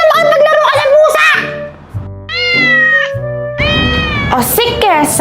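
A cat meows loudly and repeatedly in drawn-out, wavering calls, close to the recording, with a few short pauses between cries and some background voices mixed in.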